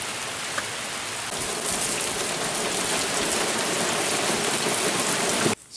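Steady, dense rain pours down close by, a continuous hiss of drops hitting surfaces that cuts off abruptly near the end.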